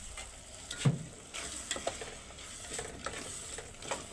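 A spoon scrapes and stirs thick tuna fish curry gravy in a pan, giving faint, uneven strokes and clinks over a low, soft sizzle. Nobody speaks.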